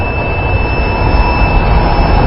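A biosafety cabinet's exhaust blower runs loudly during a valve closure test, a constant, heavy airflow roar that holds steady throughout without any speech.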